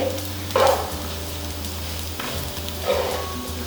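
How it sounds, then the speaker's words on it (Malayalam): Kerala-style beef fry crackles in a pan, a steady sizzle broken by two louder stirring bursts of sputtering as the meat is moved around, with no voices. "നമ്മൾ ഫ്രൈ ചെയ്ത് തോറും ഇത് നല്ല ഡാർക്ക് കളറിലേക്ക് വരും കേട്ടോ"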